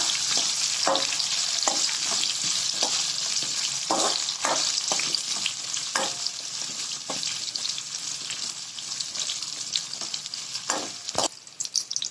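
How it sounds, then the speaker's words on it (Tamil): Onions sizzle and crackle in a hot pan as they are sautéed for sambar, with occasional scraping stirs and clinks throughout, close and steady. "வெங்காயத்தை நல்லா கலர் மாற அளவு வதக்கிக்கோங்க"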